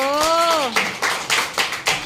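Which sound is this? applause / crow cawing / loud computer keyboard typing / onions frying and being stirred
applause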